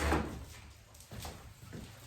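Old wooden drawers in a run-down house being pulled and pushed, a soft thump followed by a second faint sliding knock, quiet and close.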